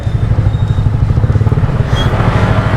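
Motorcycles idle at a ferry port, a steady, loud, close engine rumble with a pulsing low throb running through the whole moment, with no talking.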